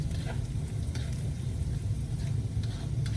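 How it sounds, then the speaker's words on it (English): Sausage sizzling and crisping in a hot pan for pineapple fried rice, a steady loud frying hiss with crackles and occasional stirring scrapes throughout. "It says it does take about 3 minutes for the sausage to get crisped."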